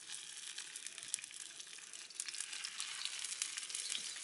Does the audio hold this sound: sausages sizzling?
yes